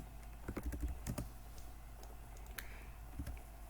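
Quick, light clicks of someone typing on a computer keyboard come in short bursts, clustered near the start and again near the end. The clicks are close and fairly quiet, with no talking.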